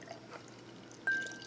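Beer from a Loch Ness Brewery bottle poured into a glass, a faint soft trickle that rises into a brighter splash near the end.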